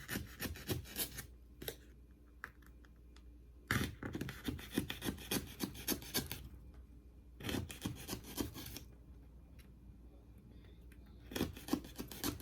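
Scissors snip and rasp through foam board, cutting out eyebrows and eyelashes for a DIY diva face wreath, in close repeated bursts of rough scraping cuts separated by short pauses.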